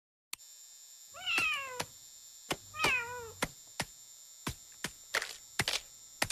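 A cat meows several times, two long drawn-out cries and then shorter sharp calls, close and clear. A faint mains hum runs underneath, and there is no talking.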